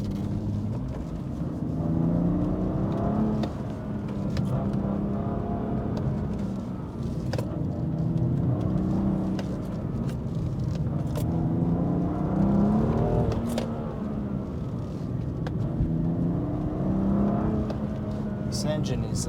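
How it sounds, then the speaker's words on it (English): A BMW M2 Competition (F87) engine drones steadily while driving at night on rally-style roads, a continuous hum with rising and falling revs, heard from inside the car with cabin noise throughout. "This engine is as sharp as a razor blade when it's in Sport Plus."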